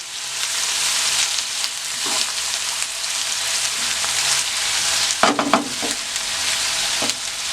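Steady sizzling of onions frying in a pan, with a few scraping stirs near the end, close and with no talking.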